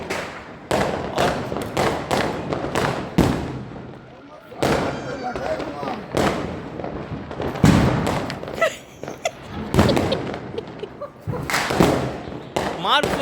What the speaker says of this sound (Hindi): अब लगेगा पार्टी बम में आग।